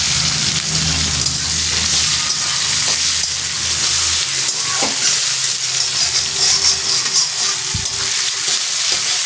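Onions fry in hot oil with black cumin seeds and a few chillies, making a loud, continuous close sizzle with occasional stirring scrapes and no voices.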